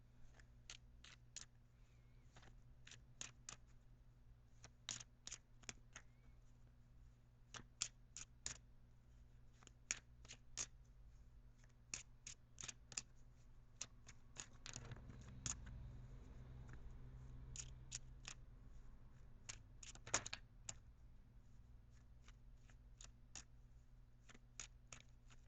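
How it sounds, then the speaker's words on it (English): Tarot cards shuffled by hand in a quiet room: a steady scatter of crisp, light card flicks and snaps, irregular in rhythm and close to the ear, with a faint low hum underneath and no talking. "I'm going to shuffle for"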